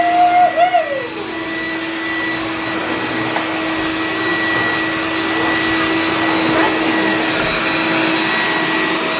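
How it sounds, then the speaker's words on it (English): A household vacuum cleaner runs steadily and close by, a loud continuous motor whine that starts with a brief pitch sweep as it spins up, then holds even with no talking. "I'm going to get the mummy's vacuum."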